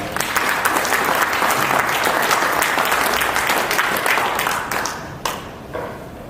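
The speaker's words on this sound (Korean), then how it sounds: "박수로 환영해 주시기 바랍니다." A lecture audience at a Korean academy gathering gives a dense, steady round of applause that holds strong, then thins and tails off into a few scattered claps.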